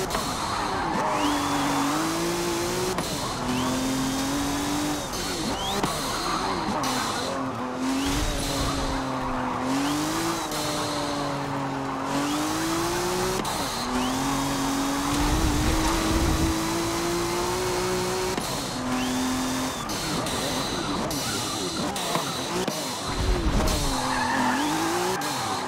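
A video game car screams along with a high, droning engine that rises and falls in pitch, joined by repeated tire squeals and skids, loud and continuous for the whole stretch.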